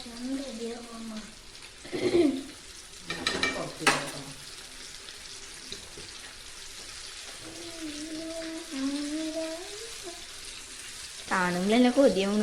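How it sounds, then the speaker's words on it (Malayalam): Coated chicken popcorn frying in hot oil, a steady soft sizzle with intermittent stirring and clatter, while a voice talks over it at times. "നമുക്ക് ഫ്രൈ ചെയ്യാം."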